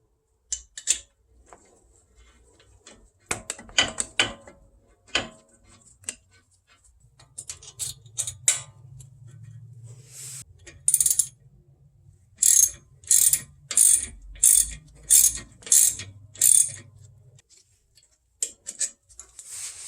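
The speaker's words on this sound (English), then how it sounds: "all we're doing now is just going to put the caliper bolts in, and it just needs a little bit of Loctite" Brake caliper bolts being tightened with a ratchet on a VW Golf MK7: scattered clicks and handling noises, then a clear run of about seven evenly spaced, loud ratcheting bursts close up.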